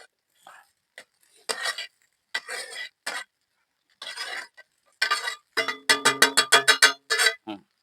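Finely chopped chicken is stirred in a pan for a spicy chicken podi fry, with scraping bursts followed by a quick run of rhythmic metal clanks of the spatula against the pan, close and fairly loud, with no talk.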